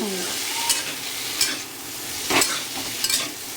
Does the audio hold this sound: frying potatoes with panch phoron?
yes